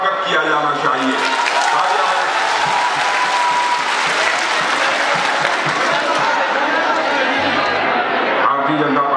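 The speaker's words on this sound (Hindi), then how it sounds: "एक बार सारे लोग तालियां बजाकर बथुआ कमेटी का जो परफॉर्मेंस रहा है उसका स्वागत किया जाना चाहिए।" A large crowd at a BJP election rally in Malda claps loudly and steadily, with cheers and chatter mixed into the dense sustained applause, which tapers a little toward the end.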